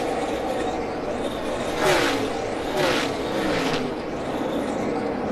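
NASCAR Xfinity Series cars roar around the track on the final lap, a loud continuous engine drone with several swelling pass-bys as cars sweep past, and a commentator talks over it.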